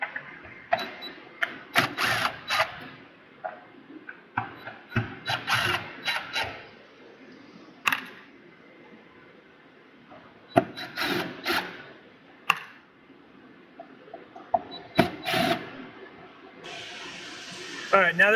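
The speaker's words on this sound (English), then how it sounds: "now that we've removed the screws" Screws being worked out of the tin cover of a DOGE cryptocurrency miner during a teardown: scattered close metallic clicks, scrapes and taps with pauses, mixed with a person talking.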